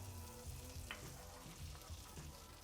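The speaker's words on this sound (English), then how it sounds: "I'm really bad at leaving anything I fry alone." French toast slices frying in butter in a pan, giving a soft, steady sizzle with occasional light scrapes and taps, quiet and close with no talking.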